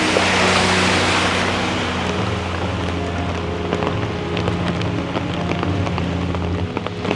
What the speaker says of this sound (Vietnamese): thấy dòng nước chảy không ngừng các bạn ạ Suốt ngày suốt đêm Như vậy là lượng mưa rất lớn